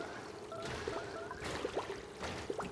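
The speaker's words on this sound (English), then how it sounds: "That is normal water falling." Water falls and splashes steadily in the colony-building game Oxygen Not Included, a soft continuous rush broken by short bubbly gurgles.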